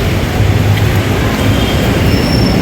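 A light rail LRT train rumbles past close by on an elevated line in Manila, a loud steady roar of wheels on rails with faint high squeal throughout.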